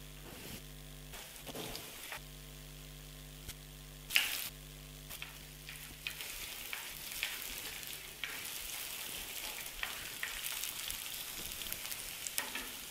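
Chenna (chana) hits a hot pan and fries with a steady sizzle, with a sharper burst of crackling as it goes in, then softer bubbling and occasional stirring clicks.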